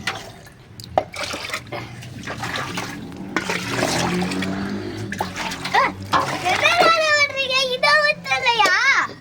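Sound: water mixed with bio booster being poured on plants

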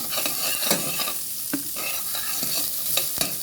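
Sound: onions sautéing and sizzling in a pan while stirred

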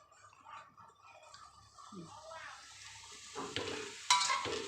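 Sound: stir-frying cabbage with carrot and minced pork

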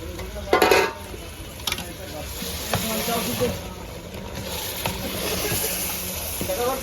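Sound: sizzling curry as water is mixed into oil

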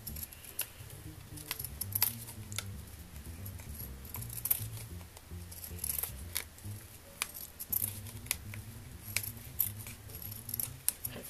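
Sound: craft scissors cutting fabric

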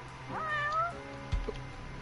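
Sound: cat meowing in a video game

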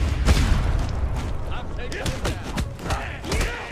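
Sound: gunfire and explosions in Redeemer video game

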